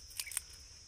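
Homemade crunchy kurkure made from leftover cooked rice snapping apart: two short, sharp crisp cracks close together, close by, with no talking.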